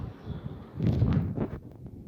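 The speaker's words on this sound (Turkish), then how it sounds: "Burası birazcık rüzgarlı." Gusty wind buffets the microphone with a low, rumbling roar that swells in the middle and eases off, close and without voices.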